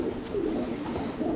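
A grizzle racing homer cock pigeon gives a soft, continuous low cooing, steady and fairly close, with no talk.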